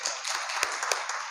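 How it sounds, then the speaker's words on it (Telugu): A small group claps together at a thanksgiving prayer gathering, a brief patter of handclaps with a few sharper beats standing out, moderately close. "ఒకసారి చప్పట్లు కొడతాం."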